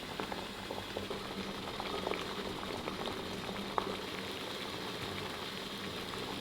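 Shrimp siu mai cook in a bamboo steamer over a steady, bubbling boil, a continuous close hiss and gurgle of water and steam with an occasional faint click.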